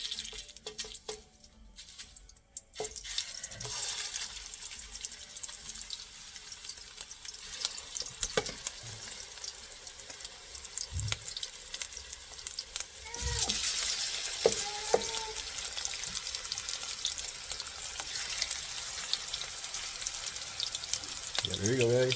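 Beef patties frying in a pan, a steady soft sizzle running throughout, with occasional clinks and movement sounds and a voice talking faintly in the background.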